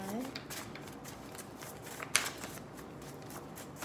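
Tarot cards are shuffled in quick riffling bursts close to the microphone, with one sharp snap partway through, under a quiet background.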